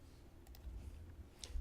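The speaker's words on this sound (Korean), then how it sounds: "키보드에 Alt를 누르고 클릭을 할 겁니다" A few faint, short mouse clicks on a quiet desk, made while the Alt key is held down during image editing, with no talking.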